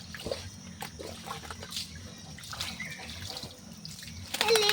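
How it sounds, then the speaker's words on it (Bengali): Water is poured over a pet during a bath, giving a faint steady splashing and trickling that runs throughout, with a brief louder splash at the end. "এবারে জল দেওয়া হচ্ছে গায়ে"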